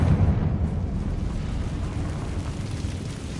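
A Confringo fire-blast spell explodes in a video game, letting out a deep, rumbling roar that starts loud and slowly fades over a few seconds. No voices are heard over it.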